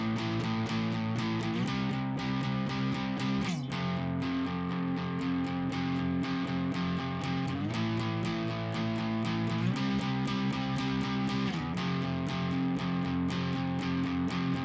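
Electric guitar playing the repeating second-half part of a song, steady eighth-note strums with a distorted tone, played alone and continuously at a moderate level.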